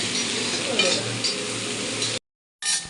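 Onions and curry leaves fry in a pan with a steady, close sizzle and a few stirring scrapes, the sound cutting off briefly near the end before resuming.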